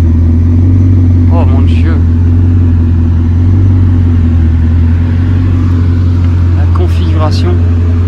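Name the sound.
Bugatti Chiron Super Sport hypercar engine revving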